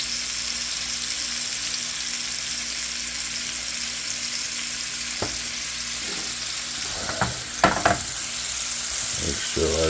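Scallops fry in butter and oil in a stainless steel pan with a steady sizzling hiss, later broken by a few louder clatters and scrapes near the end.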